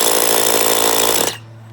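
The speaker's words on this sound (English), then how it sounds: "This is a hammer drill." Hammer drill boring through brick and mortar, a loud, steady grinding roar close by that stops abruptly near the end, leaving quiet background.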